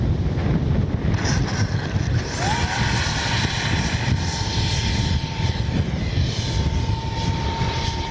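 An X-FLY F-22 Raptor twin 40mm EDF RC jet flies in windy conditions, its steady ducted-fan whine rising and falling in pitch as it passes, with constant wind rumble on the microphone throughout.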